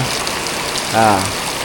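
Steady rain pours down during a storm at a house, a dense hiss running throughout with a brief voice rising over it near the middle.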